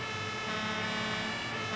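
An ambulance siren wails steadily and loudly, layered with dense engine drone, passing nearby in traffic in the firefighting simulation game Emergency Call 112.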